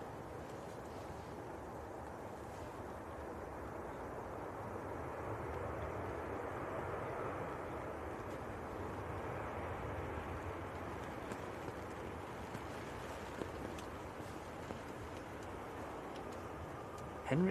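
An airliner at Manchester Airport, a Norwegian jet, makes a steady, fairly distant broadband roar that swells slightly midway and holds throughout, with no speech.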